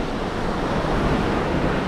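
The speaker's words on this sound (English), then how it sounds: "the wind is picked up and it's flat out cold out here" Wind gusts across a Florida surf fishing beach on a cold day, a steady loud roar blended with surf wash, with no voices.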